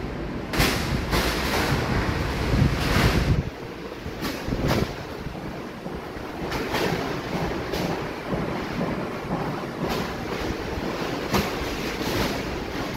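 Powerful typhoon wind from Typhoon Uwan blasts through San Juan in surging gusts, loud broadband rushing with sharp buffeting bursts on the microphone, easing slightly after the first few seconds but never letting up.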